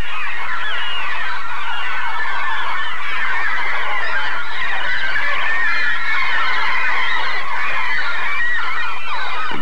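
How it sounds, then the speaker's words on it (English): Loud, hungry baby gulls call from their nests on a rocky Newfoundland cliff, a dense, continuous chorus of shrill squawks close by, with no talk over it. "nests with loud, hungry baby birds."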